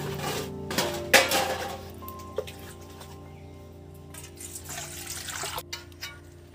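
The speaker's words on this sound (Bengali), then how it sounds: "এর মধ্যে কিছুটা জল দিয়ে দিচ্ছি" Water from a mug poured into a cooking pot of kochu shak (taro leaves) at home, a short splash among clinks of pots and utensils, close and moderately loud.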